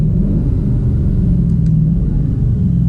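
A V8 Dodge Charger's engine rumbles deep and loud from inside the car, a sustained low roar under acceleration with no talk.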